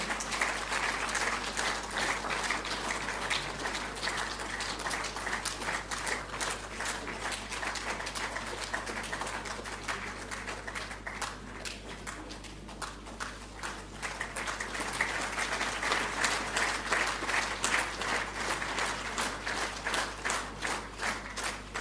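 Sustained audience applause at a national photography awards ceremony honoring a lifetime achievement, dense clapping from a large crowd that swells again near the end, with no talk over it.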